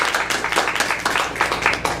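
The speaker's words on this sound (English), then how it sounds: "with a big round of applause, thank the library for hosting Helicon West" A small open mic audience claps to thank the library for hosting Helicon West, a loose scatter of hands in an indoor room that rises and falls over two seconds with a little murmuring under it.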